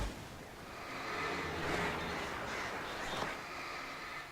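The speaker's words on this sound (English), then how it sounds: "These birds, however, are unending." Crows cawing during an attack in the video game Alan Wake, a dense flock whose harsh calls swell and overlap continuously for several seconds.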